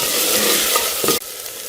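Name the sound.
chicken frying with garlic ginger paste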